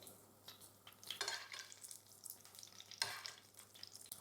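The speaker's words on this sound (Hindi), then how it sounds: "इनको दोनों साइड से हमने प्यारा सा कलर आने तक फ्राई करना है" Hash browns fry in a little oil in a pan, soft crackling sizzle with a few louder bursts and scrapes of stirring, fairly quiet and without talk.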